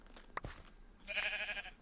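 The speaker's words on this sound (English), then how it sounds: "I hear you, sheep." A single Minecraft sheep bleats once, a short, clear, nasal cry that stands out on its own against near silence after a faint click or two.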